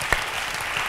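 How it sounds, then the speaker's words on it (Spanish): Applause during a casual interview, a short wash of clapping with no pause in it. "un aplauso para él"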